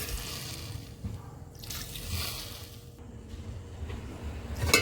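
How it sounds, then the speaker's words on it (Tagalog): Water is poured into a pot of chicken and green papaya as it cooks, a faint close trickle and splash that turns into bubbling and sizzling. "At maglagay na rin tayo ng konting tubig para palambutin ang ating papaya"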